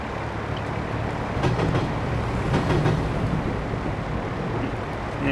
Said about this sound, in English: Couldn't make a damn video and the train has to fucking come.